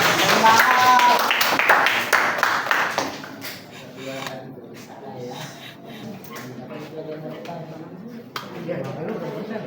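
A group of people claps hands together in a loud, dense burst for about three seconds, which then fades away as a person starts talking.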